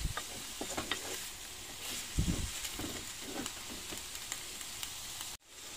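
Onions and mushrooms sizzle quietly in a pan set up in a camping car, a steady soft frying hiss with scattered pops and a few louder spatters, ending in a brief dropout.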